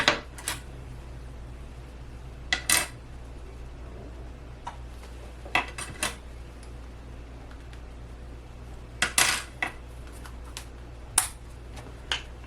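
Plastic measuring spoons scooping pepper in a kitchen give light, quiet clicks and taps scattered irregularly over a faint steady background hum.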